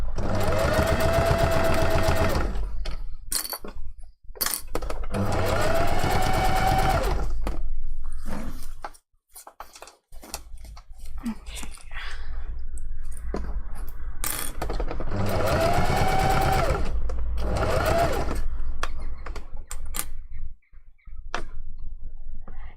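A domestic sewing machine stitches a seam on a fursuit fox tail in three bursts of a steady, close motor whir with rapid needle ticking, separated by quieter pauses for handling fabric.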